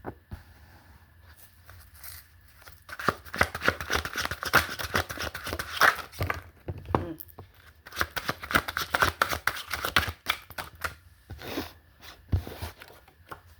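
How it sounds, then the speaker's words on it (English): Slick tarot cards are shuffled repeatedly in quick riffling bursts, slick and slapping, close up with brief pauses between rounds. "I really do have a difficult time shuffling these cards because of how slick they are"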